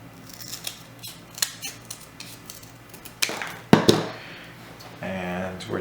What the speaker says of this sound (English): And we're going to cut that in half.